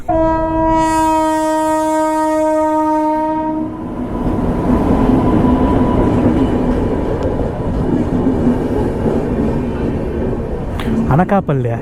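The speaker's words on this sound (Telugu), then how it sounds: "ట్రైన్ వస్తుంది" A train horn sounds a long, loud, sustained blast, then the train rumbles past up close with a dense, steady roar of wheels and cars.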